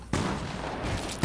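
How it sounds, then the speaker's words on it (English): Gunfire in the battle royale game Fortnite, loud and close: a sharp shot opens a sustained blast of noise and a second shot cracks near the end. "Hey, who's shooting at me?"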